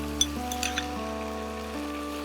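Chopped tomato added to a pan with ginger paste while cooking a Bengali potol and chhana dish, giving a faint, steady sizzle with a few soft clicks near the start over a low background hum.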